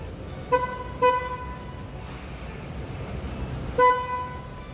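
Three loud car horn toots, two close together then one more after a pause, over steady traffic and engine rumble.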